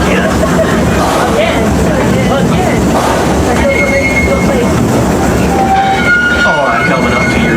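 Green Six Flags amusement park railroad train running steadily, a loud continuous rumble and rattle with brief horn-like tones, while someone narrates over it.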